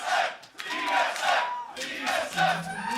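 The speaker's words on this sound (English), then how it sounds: "Crowd already getting involved, and they always are when it's C9 TSM." An esports arena crowd at a TSM versus Cloud9 League of Legends LCS match roars in loud chanting surges that rise and fall in rhythmic waves.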